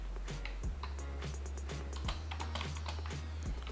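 Rapid clicking keystrokes on a wireless keyboard paired with an iQOO 7 phone, a close, quiet, irregular patter of taps over a low steady hum.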